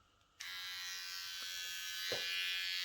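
A Kemei 6267C electric hair trimmer switches on and runs with a steady, close, high-pitched buzz, with a faint tap partway through.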